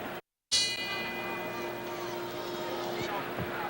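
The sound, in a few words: boxing ring bell signalling start of round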